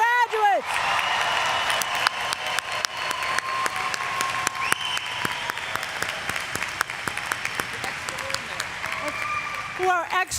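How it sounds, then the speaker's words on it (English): Sustained applause from a large commencement crowd celebrating 2023 master's degree graduates at Springfield College, dense steady clapping for about ten seconds, with a voice speaking faintly at the start and end. "how about we ask for one more round of applause for our 2023 master's degree graduates?"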